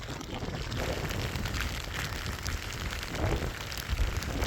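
Rain comes down steadily on an outdoor trail, a dense continuous patter and hiss with scattered louder drops throughout, moderately loud and without any voices.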